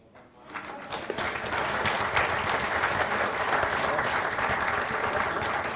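An audience at a property network product launch in Brisbane breaks into applause, building quickly from quiet into a dense, sustained round of clapping that continues to the end.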